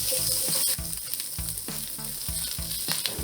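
Vegetables fry in batches in a hot pan for a healthier rice dish, giving a loud, steady sizzle close by that is broken by repeated rhythmic clacks and scrapes of a utensil stirring.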